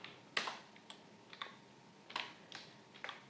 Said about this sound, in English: once again I type the printf statement